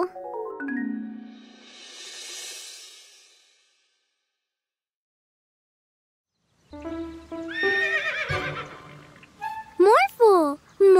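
A cartoon horse neighs in a bright whinny at the start. After a stretch of silence, excited animated voices and playful sound effects follow, with a few short squeaky tones near the end.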